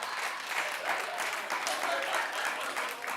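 An audience claps steadily for several seconds, a dense, fairly distant patter of many hands, with a faint crowd murmur beneath it.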